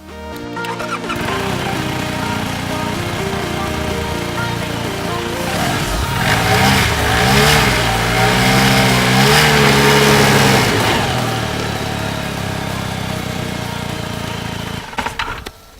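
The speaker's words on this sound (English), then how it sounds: "go ahead and crank her up and make sure everything is engaging properly" A Polaris 750 Turbo snowmobile engine, just fitted with a new drive belt, cranks over and catches, then revs up and down in loud swells before settling to a steady idle, all close by.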